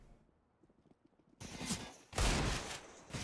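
Gunfire in a competitive shooter video game match, a sudden loud burst of shots after a quiet stretch, followed by a second, heavier volley of rapid fire.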